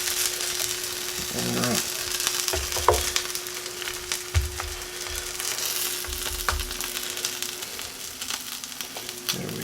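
Chicken quesadilla frying in a pan after being flipped, a close, steady sizzle with spatula scrapes and thumps, plus a constant low electrical hum; someone speaks briefly.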